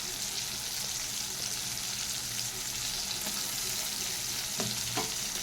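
Onions, a large tomato and ginger-garlic paste sizzle in a pan for patal jhal as they are stirred, a steady close frying crackle with a few sharp scraping clinks near the end.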